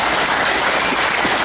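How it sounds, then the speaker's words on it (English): An audience at the 2011 Red Lake College graduation ceremony fills the hall with loud, dense, continuous applause in a short burst. "So let's give him a round of applause for that."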